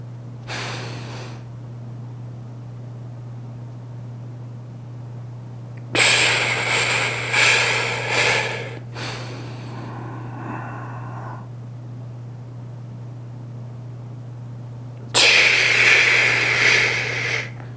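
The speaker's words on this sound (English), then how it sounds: "So breathe in." Slow, deep breaths of a breathing exercise, heard close and loud as long airy inhales and exhales with pauses between them, over a steady low hum.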